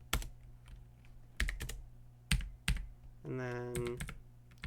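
Computer keyboard keys tapped in a few sharp, separate clicks while entering file system commands, with a short spoken phrase and a brief tonal beep between them.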